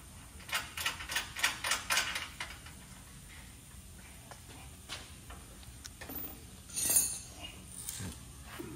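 Wrench work on the bolts of a bolt-in rear four-link suspension kit on an 80-86 Ford F-100, a quick run of ratcheting clicks early on, then sparse metallic ticks and a brief clink near the end.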